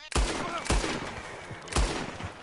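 Heavy gunfire from the Red Dead Redemption 2 video game, with three loud, booming shots spaced about half a second to a second apart, each followed by a rumbling echo tail.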